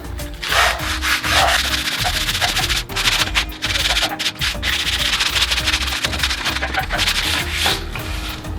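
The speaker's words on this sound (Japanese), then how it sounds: "180番残ってたんで、これでヤスリかけていこうかな" Wood is hand-sanded with 180 grit sandpaper in a garage, loud close rasping strokes repeating back and forth in an even rhythm with brief pauses between passes.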